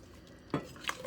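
A spoon stirs noodles in beef broth in a pot, giving a couple of soft scrapes and knocks over a quiet kitchen background, with no talking.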